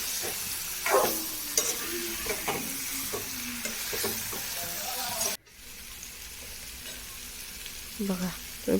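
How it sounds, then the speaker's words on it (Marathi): Cleaned prawns stir-fried in a Malvani-Konkani ground spice paste give a steady, close sizzle with scraping stirs throughout. The sound dips briefly midway, then resumes. "ती कोलंबी आता परतून घेऊ"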